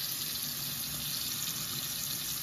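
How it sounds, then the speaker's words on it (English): Hot water runs steadily from a sink faucet into the bowl, a constant close hiss and splash with no pauses for the whole stretch. "You can check the temperature of the water coming out of your faucet as well."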